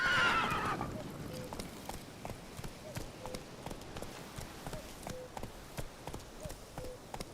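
A horse in The Witcher 3 gallops with rhythmic clip-clop hoofbeats and a neigh at the start, while someone talks over the game sound.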